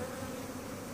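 Bees swarm around a hive built inside a tree at Blackmans Bay, giving a steady, fairly faint buzzing hum that holds evenly with no voices.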